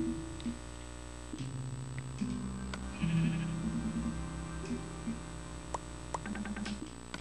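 Sheep in the Minecraft video game give repeated wavering bleats over steady background game music, moderately loud and close.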